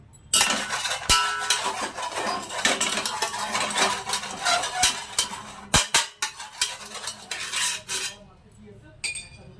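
Metal utensils scraping and clinking against a pot while chicken biryani is layered with ghee, a busy run of close kitchen clatters and knocks that fades near the end.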